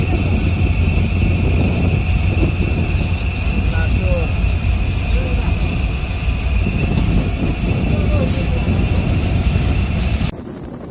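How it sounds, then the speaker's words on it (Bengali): Panchagarh Express passenger train rushing past at speed near Chilahati railway station in Bangladesh, a loud steady rumble of wheels and carriages with a faint squeal, close by and continuous before dropping off sharply at the end. "দেখুন আমাদের পাশ দিয়ে দ্রুত গতিতে ছুটে বের হয়ে যাচ্ছে পঞ্চগড় এক্সপ্রেস"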